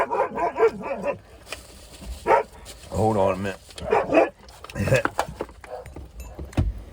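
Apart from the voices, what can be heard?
dog barking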